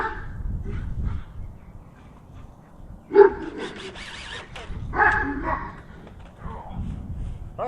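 Dogs barking in a backyard near a compost bin and raised garden, a few loud barks and yips spaced apart, heard alongside someone speaking calmly.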